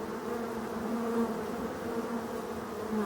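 Honeybees stream out through a strawberry net fitted over a hive as protection from Asian hornets in Brittany, a dense, steady buzzing swarm close by with no speech.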